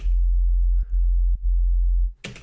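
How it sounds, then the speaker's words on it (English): A deep, pure synthesizer sine wave bass tone holds steady, briefly dipping twice before cutting off into a short burst of noise. "it's literally just a sine wave here"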